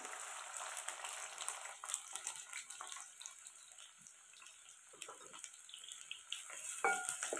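Onion fries in hot oil in a kadhai over a wood-fired chulha for a chicken curry, a soft steady hiss with scattered crackles and occasional stirring scrapes.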